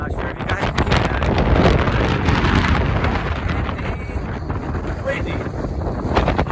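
Strong, steady wind roars and buffets the microphone throughout on a mountain top along the Appalachian Trail, a loud continuous rumble with gusts swelling and easing.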